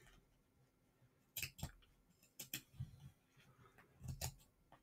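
Fine-bladed scissors snip through folded fabric along a sewn seam while making a bag, giving a few close, sharp cutting bursts in irregular clusters against a quiet room.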